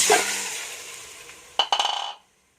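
Mutton pieces drop into a cooking pot with a wet, sloppy rush, then a sharp clatter and a string of quick metallic rattles before everything goes quiet.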